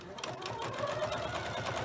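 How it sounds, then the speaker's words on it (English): A sewing machine runs steadily and close by, edge stitching a quilted strip-pieced table runner with a 1/4 inch presser foot to secure the batting, producing a fast, even mechanical chatter throughout. "I am stitching along the edge there to secure the batting."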